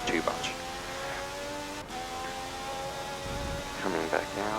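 An Indy car engine in the Forza Motorsport 7 racing game holds a high, steady rev near its limiter, briefly dips as if shifting, then rises again with a burst of revving near the end.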